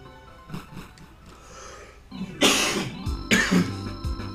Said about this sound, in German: Mann, jetzt ist aber so langsam gut mit den Husten.